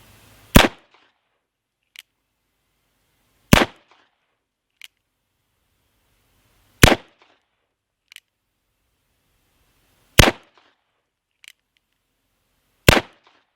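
Five loud, sharp gunshots from a Cimarron Bisley revolver in 44-40, fired two-handed at 25 yards, evenly spaced about three seconds apart, each followed by a faint click as the hammer is cocked.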